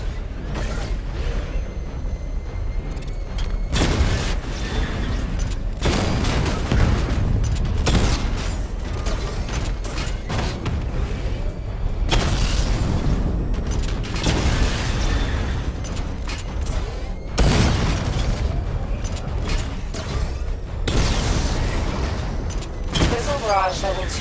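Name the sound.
missile barrage explosions in Batman: Arkham Knight video game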